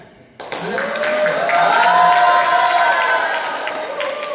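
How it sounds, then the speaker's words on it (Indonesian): Spectators in the right-hand stand at a student debate at an Islamic boarding school cheer loudly, a sudden surge of crowd voices and clapping that swells and holds, fairly close and filling the hall. "Mari kita cek semangat penonton di tribun kanan."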